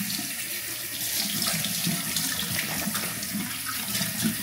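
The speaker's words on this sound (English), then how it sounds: "after my skincare, I always wash my hands" Water runs steadily from a tap into a sink while hands are washed after skincare, a continuous close splashing flow with no talk throughout.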